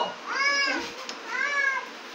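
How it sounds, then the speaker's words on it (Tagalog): A pet cat meows twice, with two clear, rising-and-falling cries about a second apart, close and distinct against a low background hum. "ito ang pusa ko"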